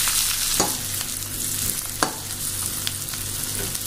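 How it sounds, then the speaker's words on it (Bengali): Onion, garlic and green chillies frying in a pan for a pointed gourd and prawn dish, giving a steady close sizzle with a few sharp stirring scrapes from a spatula. "পেঁয়াজ রসুনটা আমার ভাজা ভাজা হয়ে গেছে"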